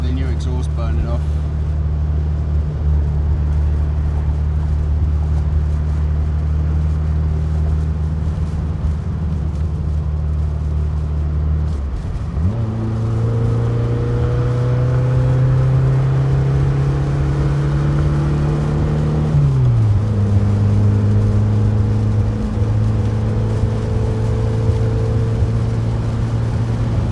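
A 1963 Karmann Ghia engine drones steadily on a test drive, then shifts and climbs in pitch as the car accelerates through gears, a continuous loud motor hum with someone talking over it at times.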